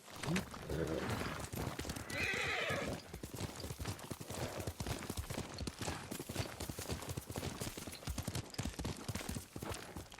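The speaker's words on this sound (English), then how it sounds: "Yuriko's horse." A horse whinnies and clip-clops through a Ghost of Tsushima game scene, its hooves and neighing close and busy beneath steady speech and background music.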